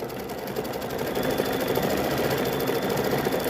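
An embroidery-style sewing machine stitches a quilt held in a hoop, a fast steady mechanical whirr and rattle close by that grows slightly louder, with no talking.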